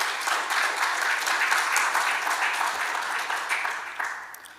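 Audience applause follows a singer's performance at a formal lecture event, with steady sustained clapping from a sizeable crowd that holds throughout and gradually thins toward the end.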